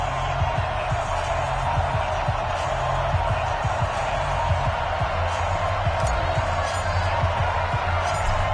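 Steady stadium crowd roar from an EA Sports NFL video game, Patriots against Steelers, a dense continuous wash of cheering with faint bursts of commentary-like voices underneath throughout.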